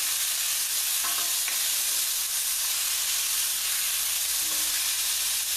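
Small salmon pieces stirred in a hot pan, a steady broad sizzle and hiss of frying running throughout with faint scraping stir strokes near the start and end, close and fairly loud, no talking.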